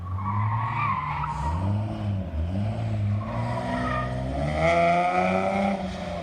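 A V6 Mustang skids at a demolition-style King of the Heap car event, with the engine revving and tires scrubbing in loud, continuous waves and pitch swings that rise and fall.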